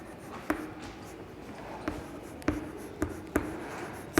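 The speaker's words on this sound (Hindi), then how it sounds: "जो मैंने सोचा है वो मैं ब्लैक बोर्ड पे लिखती हूँ" Chalk taps and scrapes against a classroom blackboard in short, irregular strokes, with a few sharp knocks standing out above a quiet room background.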